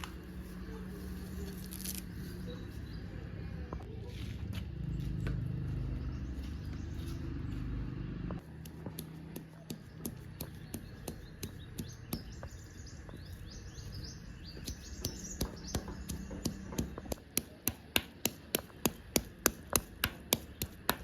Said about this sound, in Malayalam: ഇനി അതൊന്ന് കഷ്ണാക്കിയിട്ട് ചതച്ചെടുക്കാം.